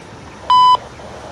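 A CSX railroad equipment defect detector sends a single clear electronic radio tone, a steady beep lasting about a quarter second over faint background hiss.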